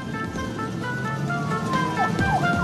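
A siren wails somewhere amid steady road traffic, its rising and falling tone cutting faintly through the rumble of passing cars.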